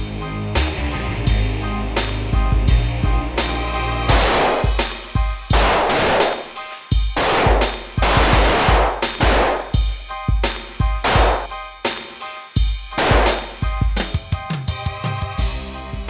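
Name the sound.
gunshots at a practical shooting range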